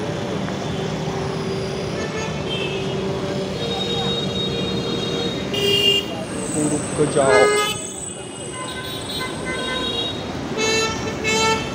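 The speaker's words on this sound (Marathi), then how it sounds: "जिकडे बघा तिकडे ट्रॅफिक गर्दी" Busy city road traffic near Churchgate, Mumbai, at night: a steady roar of engines with repeated car horns honking near and far.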